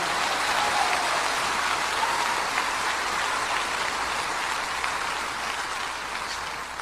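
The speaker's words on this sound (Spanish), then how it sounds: "Dele un aplauso de gloria al Señor." A church congregation applauds in sustained, dense clapping that holds steady throughout and fades slightly toward the end, heard at a moderate distance without speech.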